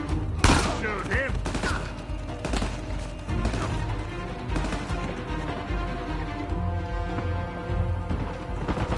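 Bursts of gunfire in a film scene, loud rapid volleys of shots with sharp cracks and thuds, mixed with shouting voices and music underneath.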